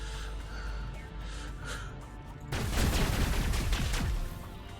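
Gunfire breaks out in the video game Mass Effect Legendary Edition. A steady low background gives way to a sudden dense volley of rapid shots and impacts that stays loud for about two seconds.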